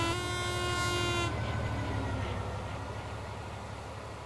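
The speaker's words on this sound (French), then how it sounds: "le roulement sur long rail soudé est assez discret" A Class 66 diesel locomotive hauls heavy freight wagons over long welded rail in Train Sim World 4, with a loud horn-like tone at first, then a steady low engine drone and a soft rolling rumble.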